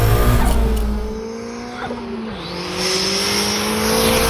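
A sports car's engine pulls hard at full throttle, a loud, rising roar climbing steadily in pitch through the clip with no talk over it.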